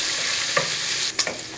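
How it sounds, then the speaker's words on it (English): Pancetta fries crisp in oil in a pan with a steady, close sizzle and a few stirring scrapes, with no talking. "We're going to let this pancetta nice and crisp."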